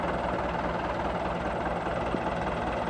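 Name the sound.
Massey Ferguson 175 tractor engine running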